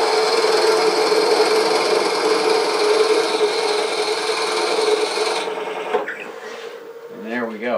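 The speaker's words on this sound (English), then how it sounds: "set this thing at 1 inch, and then just drill it down." A power drill whines loudly and steadily while boring a one-inch-deep hole into wood, then cuts off near the end, leaving quiet handling noises and a brief voice.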